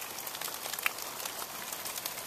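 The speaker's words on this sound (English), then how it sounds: "just listen to that rain" Rain falling outside a room, a faint, steady patter of drops with soft crackles, heard alone without talk.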